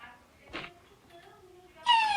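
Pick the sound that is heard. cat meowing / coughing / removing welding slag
cat meowing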